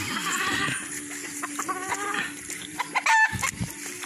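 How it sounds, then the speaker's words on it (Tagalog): Gamecocks cluck in a busy farmyard at feeding time, with scattered calls and a brief higher crow-like cry near the end over background bustle. "Magpapakain po ako ngayon ng alaga kong mga manok panabong."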